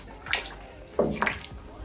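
Grain mash for a blackberry homebrew beer is stirred in a pot, giving a few faint, soft sloshing swirls of thick liquid, close by and quiet.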